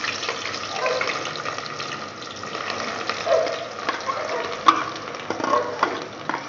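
Onions go into hot oil in a pan, giving a soft continuous sizzle with scattered small pops and clinks, moderately close with no talking.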